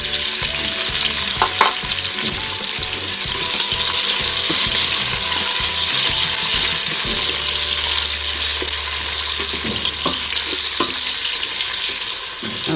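Onions and cumin seeds frying in hot oil in a home kitchen pan, a steady loud sizzle with stirring scrapes and a brief splash of water, no voices.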